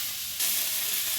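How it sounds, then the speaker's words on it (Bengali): Bottle gourd leaves with green chili and nigella seeds hit hot oil in a wok, a sudden bright sizzle bursting in partway through and continuing steadily, close and alone. "দিয়ে এখন কড়াইতে পাতাটা দিয়ে কাঁচা লঙ্কা, কালো জিরে এইসব দিয়ে একটু ভেজে নিচ্ছে"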